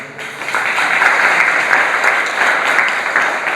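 An audience at a Jain religious discourse claps in loud, steady applause that holds at even strength throughout, with no talking over it.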